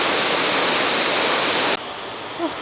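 A spa waterfall aboard an MSC cruise ship roars as a loud, steady rush of falling water that cuts off abruptly partway through, leaving a quieter background hiss.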